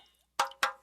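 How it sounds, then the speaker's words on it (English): Two distinct water drips from leaking pipes land about a quarter second apart, each a sharp close plop with a short ringing tail in an otherwise quiet space. "That's the sound of water coming from leaking pipes."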